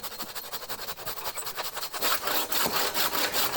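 Handsaw cutting wood to trim shed floor pieces to size, a close rhythmic rasp of steady back-and-forth strokes that grows slightly louder toward the end.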